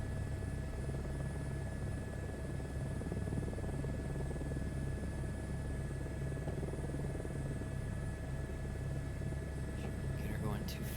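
A helicopter in Microsoft Flight Simulator 2024 hover-taxiing slowly with its turbine engine, making a steady, unbroken rotor and turbine drone with low rumble and a constant high whine.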